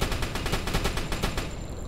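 Submarine deck gun firing in the Uboat game: a rapid, evenly spaced string of loud sharp shots, around a dozen in quick succession, close and continuous.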